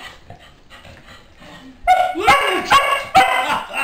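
A dog at home gives a quick series of four loud, close barks after soft earlier whimpers, while a person speaks briefly.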